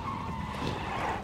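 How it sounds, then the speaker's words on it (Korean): A car in PUBG: Battlegrounds slides with a steady, loud tire skid and engine roar that hold without a break for just over a second, close and alone with no talk. "차소리가 들리는데 쏴요"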